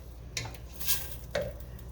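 A spoon stirs chopped onions cooking over medium heat in a soup pot, giving three soft scraping strokes against a quiet background with no talking.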